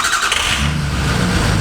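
A pickup truck engine fires up, a loud, close cranking catch that settles straight into a running rumble within under two seconds.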